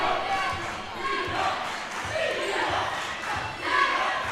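Crowd noise at a girls' varsity basketball game, a steady roar of spectators in a gym rising toward the end, with occasional shouts and a voice talking over it.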